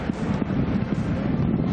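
Strong typhoon wind roars in a steady, loud gust-driven rush with buffeting against the microphone, set near a port where boats shelter from raging rain and wind.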